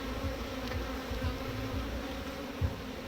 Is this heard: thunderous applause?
no